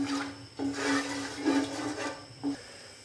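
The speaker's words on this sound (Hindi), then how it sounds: "अभी मैं इसके अंदर प्याज डाल दूंगा।" Onions drop into hot ghee with roasted whole spices for degi-style white mutton pulao, giving a soft, steady sizzling hiss. The hiss swells in several surges as the pan is stirred, with a faint hum underneath.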